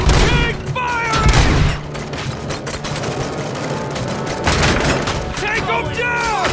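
Gunfire rattles in RoboCop: Rogue City, with rapid bursts and booming shots mixed with shouting voices and whistling electronic effects, loud and close throughout.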